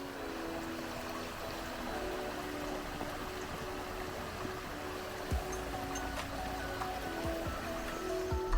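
Steady broadband rush of a creek flowing at a trail crossing in the Santa Paula Punch Bowls area of California, continuous and fairly close, with a few faint knocks and no speech.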